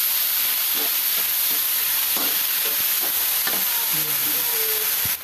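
Ground pork frying in a pan, a constant hissing sizzle with soft stirring scrapes and taps throughout, slightly distant and free of talk.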